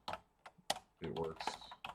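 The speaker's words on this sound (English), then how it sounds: "I'm just going to type it anyways" Quick, irregular clicks of keys on a computer keyboard, close and fairly quiet, with a few louder keystrokes among a soft flurry of taps.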